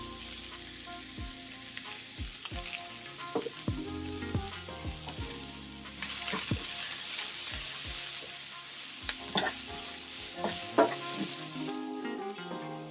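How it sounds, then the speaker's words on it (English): Onions frying in a pan for a steak sandwich, with a steady close sizzle running throughout and occasional stirring scrapes and knocks of a utensil on the pan. "Sweat some onions."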